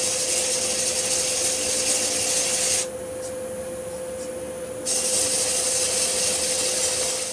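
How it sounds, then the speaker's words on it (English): Sandpaper rubs against a small yew hollow form spinning on a wood lathe, a steady, close hissing rasp with a constant motor hum. It eases off for about two seconds midway, then resumes at full strength. "the first thing I'm gonna do is sand this down"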